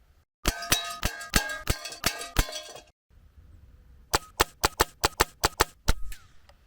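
An air gun fires pellets through a chronograph: a quick run of sharp metallic cracks and clinks, then a short pause and a second, more evenly spaced volley, fairly faint with no voices.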